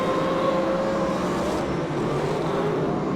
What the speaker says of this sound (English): As they power down the grandstand straight, 94 still the lead car, 127 in behind him, trying to catch him.